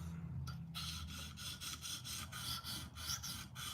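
A knife edge is drawn across a 300 grit KME Gold Series diamond plate in quick repeated rasping strokes, close and crisp, each stroke giving a short, gritty scrape in a steady rhythm.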